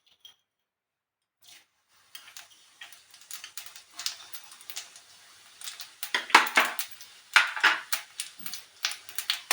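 Panch phoron five-spice seeds hit hot oil: after a near-silent start, sharp crisp crackles and pops build into a busy, irregular spluttering that grows louder and denser toward the end.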